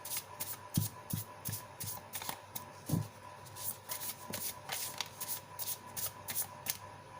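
Tarot cards being shuffled by hand, a steady run of crisp riffling and flicking bursts with a few sharper taps, close and fairly quiet, with no talking.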